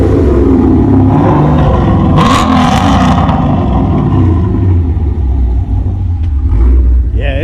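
A loud, close car engine with a new exhaust system rumbles and revs continuously, its pitch swelling as it accelerates with a deep throaty roar.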